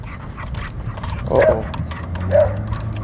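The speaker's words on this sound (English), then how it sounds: "So we got a sled dog." A sled dog on a morning outing pants softly and close, letting out two short whimpers. A person briefly speaks.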